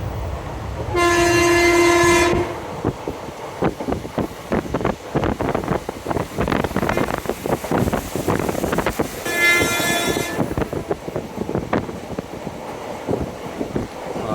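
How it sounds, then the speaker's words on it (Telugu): A passenger train in Kerala, between Thrissur and Tirur, rolls along the rails with a rhythmic clickety-clack, and two loud horn blasts sound near the start and again later. "నేను త్రిశూర్ నుంచి తిరూర్ అనే ఊరు వరకు ట్రైన్లో వెళ్తున్నాను."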